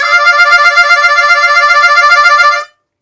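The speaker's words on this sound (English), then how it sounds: "we're going to look at a new technique called rolling notes" A harmonica plays the rolling-notes technique, a bright reedy chord pulsing in quick regular waves for about two and a half seconds before stopping abruptly, close and loud.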